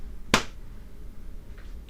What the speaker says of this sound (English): You can literally just microphone your own clap